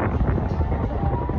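Strong wind buffeting a microphone at the Enchanted Kingdom amusement park, a steady low roaring rumble that fills the whole stretch, close and loud with no break.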